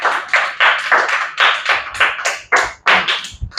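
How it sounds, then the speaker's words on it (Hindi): Children applaud together in a burst of clapping, a dense run of sharp hand claps that rises and falls in waves, close and loud, with little else beneath it. "बच्चे भी शायद उनकी ताली की गड़गड़ाहट बता रहे हैं"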